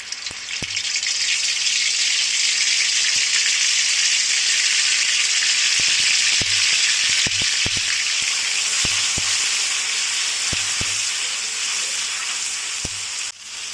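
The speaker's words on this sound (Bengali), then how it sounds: "তৈলটা গরম হয়ে আসছে এখন এতে দিয়ে দিচ্ছি পেঁয়াজের পেস্ট" Onion paste frying in hot oil for a desi chicken bhuna gives a loud, steady broadband sizzle that holds for the whole stretch, with a few sharp ticks and pops scattered through it and no talking.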